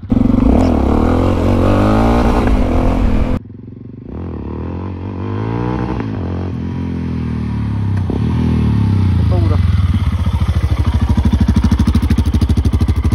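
Motorcycle engine revs hard and loud up close, cuts off abruptly, then picks up again, climbing through the revs as the bike accelerates, with a rattling exhaust pulse toward the end and talking mixed in.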